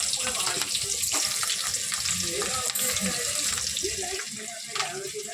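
Green beans dropped into hot ghee for a desi-style fried rice, giving a steady close sizzle and crackle with scattered clicks, loud and continuous without talk.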